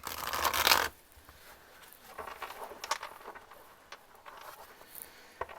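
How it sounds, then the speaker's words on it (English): Tarot cards being shuffled, a burst of brisk papery riffling up front, then soft, faint card rustles and slides scattered through the quiet. "Just give it a proper shuffle."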